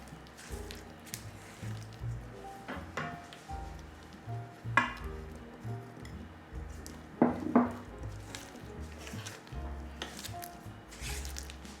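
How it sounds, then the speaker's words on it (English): A spoon scooping and stirring blueberry muffin batter in a bowl, with soft wet squishes and occasional clinks against the side, close and quiet, and no talking. "I always just kind of scoop to the bottom to make sure that I'm getting that batter at the bottom well mixed in with the blueberries."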